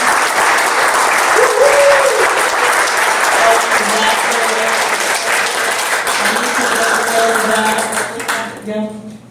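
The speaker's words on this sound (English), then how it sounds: "a shout out and a round of applause to my team" An audience at a creative event gives the organizing team a loud, sustained round of applause for about eight seconds, with scattered voices mixed in before it thins out at the end.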